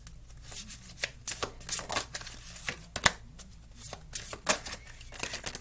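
Dark Mirror Oracle cards are shuffled by hand in a quick, uneven run of crisp riffling slaps and flutters, close and fairly quiet, with no talking.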